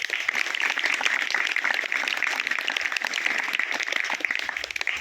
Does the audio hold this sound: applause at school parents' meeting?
yes